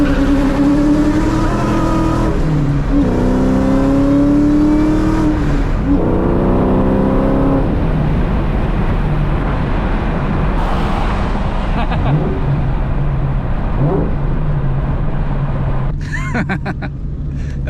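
A supercharged, straight-piped Ford Mustang Terminator roars loud and close in a hard pull, its engine climbing in pitch through repeated rising sweeps with gear changes, then dropping to a rough, heavy drone.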